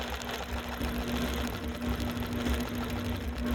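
A sewing machine stitching along an embroidery line runs as a steady, close, continuous mechanical whir with a constant hum throughout, and no talk.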